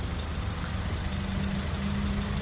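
A Toyota Auris 1.4 D4D diesel engine with a blocked particulate filter idles steadily, a constant low rumble heard up close with no talking.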